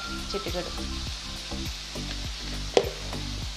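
Tomatoes and onions frying with salt in a pan for paneer curry, a hissing sizzle under repeated spatula scrapes and one sharp knock near the end.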